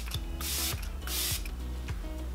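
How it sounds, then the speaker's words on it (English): Artistry makeup setting spray is misted onto a face in two quick pumps, each a sharp close hiss, over soft background music with no talking. "I'm just going to be taking my makeup setting spray from Artistry"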